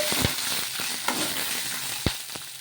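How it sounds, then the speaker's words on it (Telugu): Green chillies are stirred into a frying mixture in a pan: a constant close sizzle with several sharp scrapes and knocks of the spoon against the pan. "పచ్చిమిర్చి కూడా వేసుకొని ఒకసారి బాగా కలిపేసుకోవాలి"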